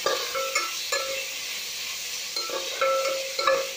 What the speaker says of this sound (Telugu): మనం సాల్ట్ వేసి కొంచెం జీలకర్ర వేసి నూనెలో వేయిస్తున్నాము